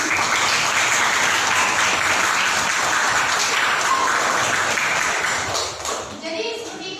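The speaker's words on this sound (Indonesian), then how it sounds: "tepuk tangan dulu" A classroom full of students applauds during a chemistry lesson, with dense, steady clapping that keeps going for several seconds and then thins out near the end.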